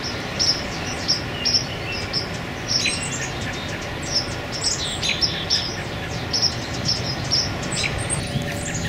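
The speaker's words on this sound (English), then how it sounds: "There's little birds all over my brush piles." Many small birds chirp and tweet repeatedly among brush piles in a city backyard, short bright calls scattered throughout over a steady low outdoor rumble, fairly close and moderately loud.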